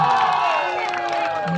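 A crowd of spectators at a village volleyball tournament cheers and shouts loudly and continuously, with whoops rising over a constant roar of voices.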